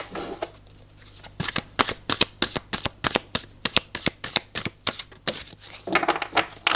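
A tarot deck being shuffled close up: a steady run of crisp, rapid card slaps in a regular rhythm, loud and clear, ending in a longer riffle.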